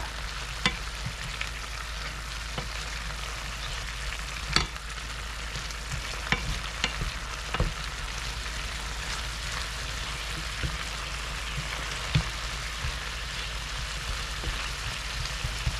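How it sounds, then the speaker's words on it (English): Beet leaves, stems and roots from the garden cooking together in a pan, giving a steady sizzle with occasional light scrapes and taps as they are stirred and flipped, close and without voices. "So what I'm going to do now is stir it up a little bit, of course. Flip everything that I can flip."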